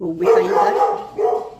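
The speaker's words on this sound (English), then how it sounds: "Please excuse the dogs barking." A dog barks close by in a couple of quick yelps, overlapping with a person speaking briefly.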